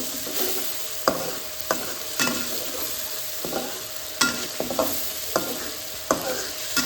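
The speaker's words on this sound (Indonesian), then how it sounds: "ini kita masak dulu juga sampai benar-benar matang" Sambal chili paste sizzles steadily in a pan, with a spatula scraping and stirring at irregular intervals over the constant loud frying hiss; no one speaks.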